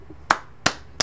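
Three sharp, distinct claps spaced evenly and close up, standing alone over a quiet background.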